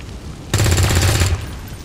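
A loud, rapid burst of automatic gunfire from the video game XCOM 2 rattles for under a second, starting abruptly after a quiet moment and then cutting off.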